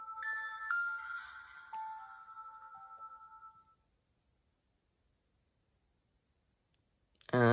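Samsung phone shutdown tone, a short bright melodic chime of several stepped notes that fades out, followed by silence and then a sudden burst of sound near the end.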